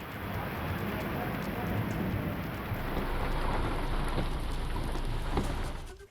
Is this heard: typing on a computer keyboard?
no